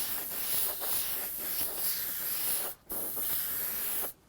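Spray gun misting candy red paint, a steady close hiss that cuts out briefly twice, once near the middle and again at the end.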